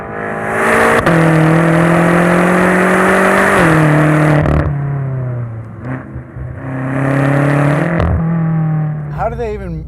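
A 2014 BMW M5 Competition with a dual-clutch transmission accelerates hard, its engine note climbing and dropping sharply at quick gear shifts, loud and close, with a voice talking over it.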